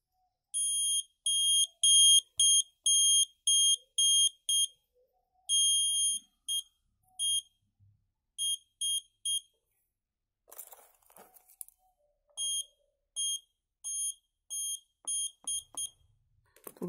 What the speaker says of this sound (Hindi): एक आपको बज़र की नॉइज़ आएगी।